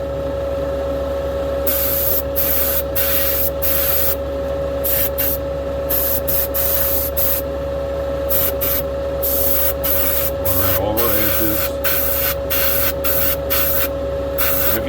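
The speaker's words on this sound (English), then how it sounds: "So right now we're just getting our tack coat on." Paint spray gun laying down a tack coat on a race car body, a steady close airy hiss running throughout with brief bursts of stronger spray over a constant compressor hum.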